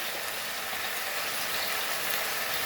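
Beef sautés in a pan for Goan green curry, giving a steady, even sizzle and hiss that continues without pause. No one speaks.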